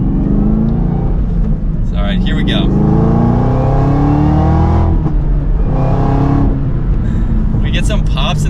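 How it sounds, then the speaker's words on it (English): A 2023 Chevrolet Camaro ZL1 muscle car drives with a loud, steady exhaust drone heard from inside, rising and falling with throttle throughout, while someone speaks briefly over it. "We get some pops in that exhaust. Boy, does it sound good."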